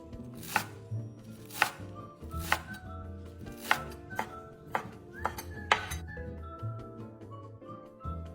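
Knife chopping Chinese chives into roughly one-centimetre pieces on a cutting board, a series of sharp, close, evenly spaced chops with brief pauses between strokes, heard alone without talk.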